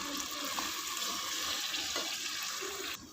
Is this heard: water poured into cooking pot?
yes